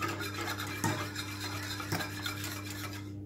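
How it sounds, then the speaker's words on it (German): A spoon stirring vegan semolina-pudding milk heating in a pot on the stove, scraping softly against the pot with a couple of light clinks over a steady low hum. "Hier erhitze ich die Milch, die rühre ich ab und zu."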